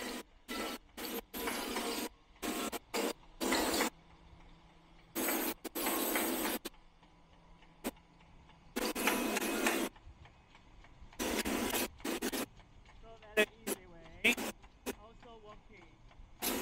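A plastic closure production line with an 18-cavity mould runs in intermittent bursts of mechanical whirring and rattling separated by brief quiet gaps, with a steady low hum underneath and a voice speaking at times.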